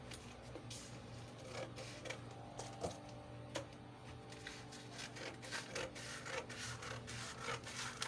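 Gown fabric being cut out, giving soft, repeated rasping and scraping strokes with small clicks, quiet and close, with no talking.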